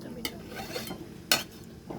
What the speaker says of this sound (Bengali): নিয়ে এবার একটু চাপা দিয়ে দেবো।